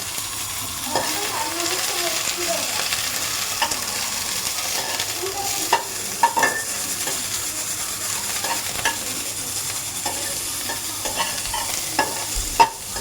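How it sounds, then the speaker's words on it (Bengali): Mixed vegetables being stirred in a pan with a little oil, a steady soft sizzle broken by scraping and clinking strokes of a spatula, at close range with no talking. "জাস্ট কম তেলে একদম নেড়ে চেড়ে নিচ্ছি। আর সমস্ত ভেজিটেবলগুলোকে এটাকে দিয়ে দিলাম।"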